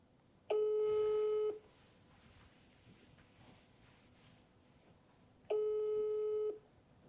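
A telephone ringback tone sounds while a call is placed, two long steady beeps about five seconds apart over faint room noise.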